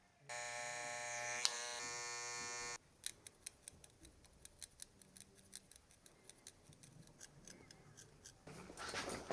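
A buzzing electric hair clipper runs for a few seconds, then stops, followed by a quick series of close, crisp scissor snips point-cutting hair during a taper burst fade haircut.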